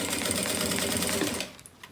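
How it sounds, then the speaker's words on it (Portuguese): Sewing machine stitching a plastic canvas beach bag, a steady fast mechanical whirr running loud and close before cutting off abruptly near the end, leaving faint handling noises. "E continuo aqui a minha costura."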